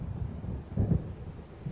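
Low, distant rumble of an approaching storm's thunder in the video game Alan Wake, swelling briefly in the middle over a steady windy background.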